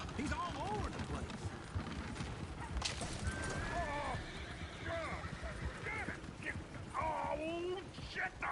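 Horses in Red Dead Redemption 2 whinnying and neighing amid a dense, busy mix with clip-clopping hooves, several high whinnies rising over a constant noisy background, with talking and music mixed in.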